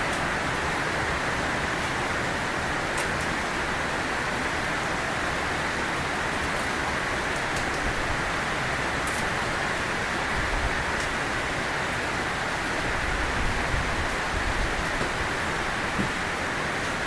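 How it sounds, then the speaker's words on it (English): Heavy rain pours down outside a shed, a dense, even wash of hiss that holds steady from start to finish, with faint patters and a low rumble near the end and no talking. "it's pouring down with rain outside"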